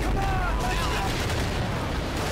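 Dense battlefield gunfire and explosions rumble from a Pacific island combat scene in Medal of Honor Pacific Assault, a continuous, loud barrage of shots and booms with faint shouting voices mixed in.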